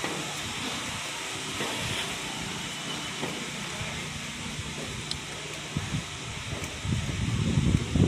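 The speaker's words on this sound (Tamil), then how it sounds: "இதில் தான் நிற்கிது நம்ம போக வேண்டிய வண்டி பாருங்கள்" Madurai–Guruvayur Express waiting at platform four of a railway station, a steady hiss and low rumble of station and train noise with faint clanks, rising slightly at the end, no speech.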